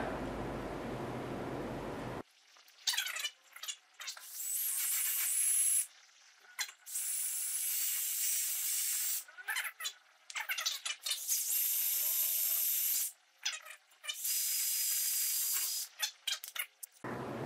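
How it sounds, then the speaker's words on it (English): A short hiss of WD-40 aerosol spray, then repeated bursts of a high-pitched power drill biting into metal, starting and stopping several times, close up. "I'm going to put a little WD-40 on it and drill through that."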